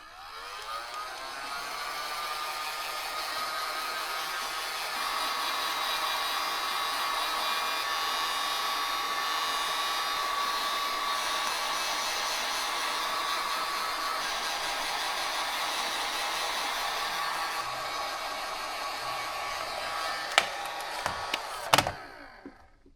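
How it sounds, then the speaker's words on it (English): Heat gun on a low setting softening stickers on the tank of a 2001 Yamaha YZ125, a steady close whirring blow that runs unbroken, then ends with a few sharp knocks and clunks. "The old trusty heat gun on low."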